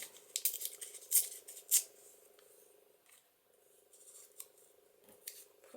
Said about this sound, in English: Tear that straight edge off there.